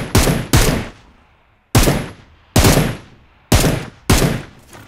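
Gunfire in BGMI, six loud, sharp shots fired singly or in pairs with short gaps, each with a ringing tail.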